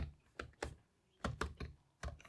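Keys tapped on a computer keyboard while a JavaScript program is written, a handful of close, crisp clicks in two or three quick bursts, quiet and with no talking.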